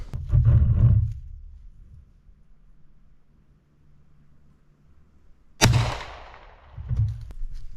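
A hunting weapon fires at a hog outdoors with one sharp, loud shot that cracks and decays into a rolling tail, between low rumbling noises, with no talking.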